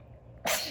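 A single sharp sneeze bursts out after a brief quiet breath, close and loud.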